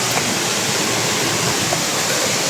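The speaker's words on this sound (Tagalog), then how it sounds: "Sapa na pala dyan." A small stream flows past an abandoned resort, giving a steady, dense rush of water that stays even throughout with no voices.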